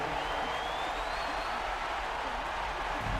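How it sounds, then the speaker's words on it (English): A virtual arena crowd in the NBA 2K23 basketball video game roars and applauds as a steady, dense wash of noise, with a faint whistle-like tone drifting through it and no clear talk. "The crowd is loud. They're all on their feet"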